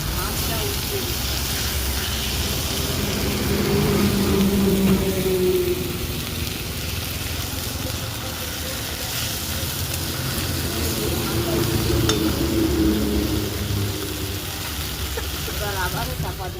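Fish frying in a pan with steady loud sizzling and crackling throughout, with occasional scraping as it is stirred and turned; voices talk over the frying.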